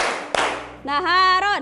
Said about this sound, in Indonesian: kalau saya bilang naharon, tepuk 2 kali